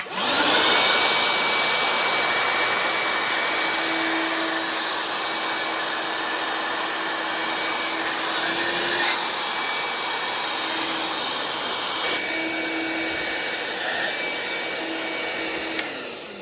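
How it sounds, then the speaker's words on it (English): A small cordless bench vacuum cleaner runs steadily for the whole stretch, a close, continuous high whine with a faint tonal hum underneath and minor shifts in pitch, no talking. "I've got a bench vacuum."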